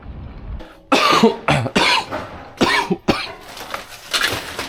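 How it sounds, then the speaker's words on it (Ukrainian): A person coughs repeatedly in harsh, close bursts, with short pauses between the coughing fits. "кашлю, як старий туберкульозник"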